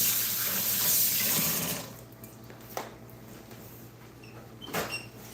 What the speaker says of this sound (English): Wash those hands.